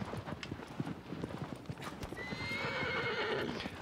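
Rapid hoofbeats of a horse in Shadow of the Colossus (2018) pound in a quick galloping rhythm, and partway through the horse lets out a high, wavering whinny over the hooves.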